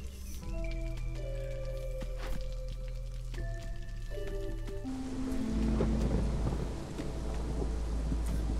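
A thunderstorm with heavy rain in the city-building game Against the Storm: a steady rushing downpour swells over low rumbling, while sustained musical tones play earlier.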